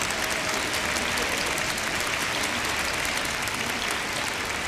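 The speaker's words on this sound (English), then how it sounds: "Let us give a warm round of applause to welcome one another." Steady, dense applause from a large audience welcoming attendees at a peace festival, a continuous wash of clapping with no gaps, loud and even throughout.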